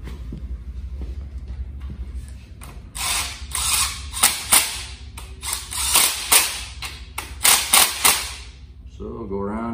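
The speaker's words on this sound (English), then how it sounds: "you can run your bolts down" Ratchet run down on bolts of a diesel engine girdle, sounding as bursts of quick metallic clicks in irregular groups of strokes, close and fairly loud over a low background hum.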